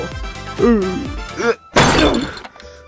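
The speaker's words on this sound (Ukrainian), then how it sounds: "телевізор розбив" A television being smashed: a sharp crash and breaking burst after animated cartoon voices, loud and close, then a brief quieter tail.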